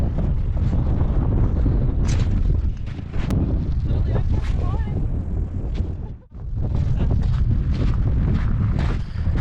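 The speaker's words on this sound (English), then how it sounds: "Easterly wind, and nobody said you could catch them in it." Strong easterly wind buffets the microphone in a continuous loud roar during trout fishing by the water, with one brief lull partway through and faint voices beneath it.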